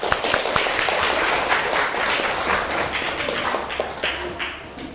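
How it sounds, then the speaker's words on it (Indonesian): Classroom applause from a group of students, a dense, steady patter of many hands clapping at once, fairly loud and close, easing slightly toward the end. "Kita beri tepuk tangan dulu."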